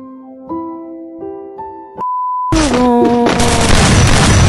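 A newly added weapon firing in the Free Fire battle royale game, a loud burst of rapid gunfire with sharp cracks filling the latter half over in-game tones and music.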